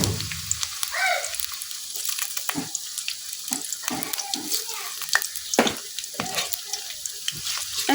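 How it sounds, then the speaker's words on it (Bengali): Chopped onions dropped into hot oil in a wok for village-style vegetable noodles crackle and sizzle, with sharp spatters and clinks of stirring throughout, close and moderately loud. "এখন তেলের মধ্যে দিয়ে দিতেছি কাটে রাখা পেঁয়াজ।"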